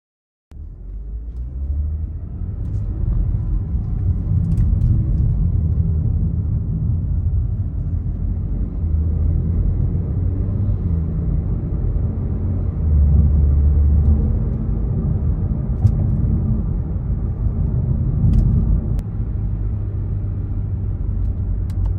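A BMW F30 with the B58 engine and a fresh transmission tune drives along, its low engine and road rumble steady and close from start to finish, with no voices.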